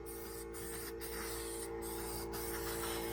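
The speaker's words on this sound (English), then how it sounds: "I'm going to spray a little rust neutralizer" Rust neutralizer hisses from a spray can onto the body of a 1978 El Camino SS, a steady close spray broken by a few brief pauses.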